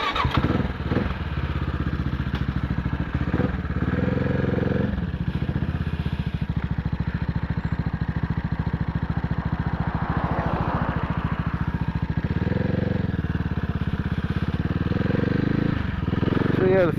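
A CCM Spitfire motorcycle engine drones steadily and loudly while riding, with a constant throbbing exhaust note and occasional rattles, and a rider talking over it at times.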